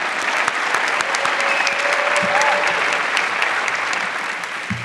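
Loud, sustained applause fills the hall at the Bloomberg Philanthropies Awards for Excellence in Road Safety, crisp individual claps within a dense wash, with a faint whistle and a few low murmurs underneath.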